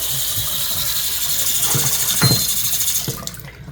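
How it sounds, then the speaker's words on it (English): Water rushes steadily from a Pfister Sonterra bathroom faucet just after repair. The hiss is loud and close, with a few clunks and knocks of handling near the end. "We're going to turn our water back on. It should turn on immediately."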